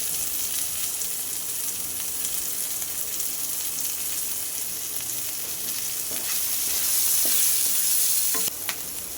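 Chilli and capsicum frying in a hot pan while being stirred, a steady loud sizzle throughout that swells briefly near the end with a few utensil scrapes.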